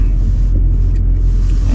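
A car idles and rolls slowly into a petrol station, its low engine rumble steady and close throughout with no talking over it.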